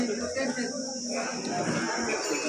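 A buffalo gives a long, low moo close by at the Vairag buffalo market, over a steady background of market noise and faint insect buzzing.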